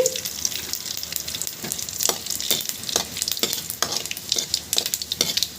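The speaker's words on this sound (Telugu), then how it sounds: "ఇవి బాగా చిటకటమని అనే వరకు వేయించుకోండి" Mustard seeds, cumin and cut dried red chilies splutter in hot oil, with sharp pops and crackles bursting repeatedly over a continuous close sizzle.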